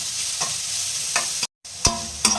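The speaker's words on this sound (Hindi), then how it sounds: "हमें हर सब्जी को सॉटे करना है और अच्छे से करना है" Vegetables for momo filling, including cabbage, sizzle steadily in a hot pan, loud and close, with a spatula scraping and stirring at intervals.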